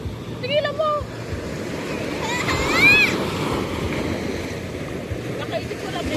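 Large ocean waves surge and wash in a steady, broad roar with wind buffeting the microphone, while people chatter and call out over it.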